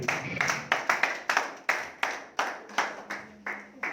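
Church congregation clapping in unison during a service, a brisk, regular series of sharp collective claps about three per second, fairly close and steady, with faint voices underneath.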